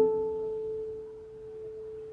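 A plucked harp string sounding its harmonic an octave higher, a single pure, bell-like tone that rings steadily and fades slowly, heard alone in quiet.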